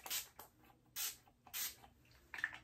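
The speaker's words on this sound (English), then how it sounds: "I literally just spray it like 5 times" Three quick hissing spray bursts from a pump face mist bottle, evenly spaced, close and fairly soft, followed by a short fainter spritz.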